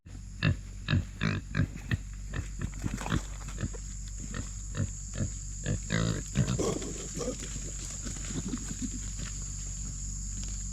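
A pig grunts repeatedly in short, rough bursts close by, with a steady background hum and a voice speaking underneath.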